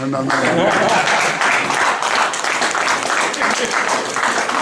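A church congregation applauds and cheers during an evangelist's sermon, with steady, loud clapping that continues throughout, mixed with some voices.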